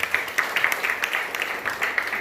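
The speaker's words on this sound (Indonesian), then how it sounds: "Ada tepuk tangan buat Tuhan Yesus" Church congregation clapping for Jesus during a worship service, an uneven patter of hand claps at moderate loudness lasting a couple of seconds.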